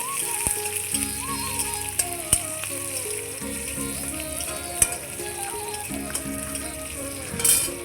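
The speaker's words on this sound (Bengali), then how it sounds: "একটু রসুন আর লঙ্কাটা একটু লাল লাল হবে তখন অবধি আমি একটু ভাজবো" Chopped garlic and green chili frying in a pan, a light sizzle under clinking and scraping from stirring, with sharp utensil taps and a tonal whine in the background.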